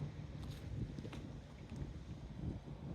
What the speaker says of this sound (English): the wind is blowing against that